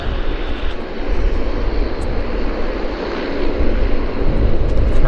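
A Boeing 757 jet at Vancouver airport roars steadily, a loud, broad engine rumble that swells slightly toward the end, with no talk over it.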